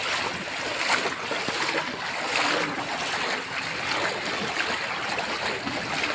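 Flood water from street flooding after rain flows and splashes steadily and broadband, a continuous near rush with no pauses.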